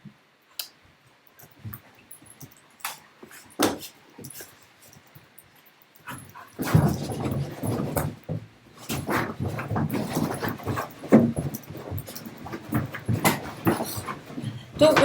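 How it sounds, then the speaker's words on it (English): Several dogs indoors bark and whimper, with scattered yelps at first that grow into a dense, continuous burst of excited barking and whining, loud and close. "Don't worry, it's just dogs go crazy."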